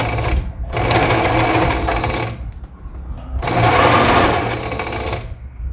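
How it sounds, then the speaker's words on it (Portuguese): A sewing machine stitches a shoulder seam on a neckline facing, with two loud close bursts of rapid stitching separated by a brief pause for the backstitch. "desço a minha agulha, ó, e dou o retrocesso no iniciozinho do ombro"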